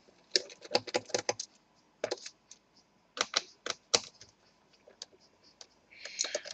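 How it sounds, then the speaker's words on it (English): Screws come out of a Dell Inspiron 3581 laptop during disassembly, a close run of sharp irregular clicks and taps with short pauses and a busier clattering burst at the end. "First thing, of course, we'll remove all the screws."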